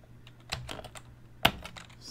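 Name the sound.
typing on a Color Computer keyboard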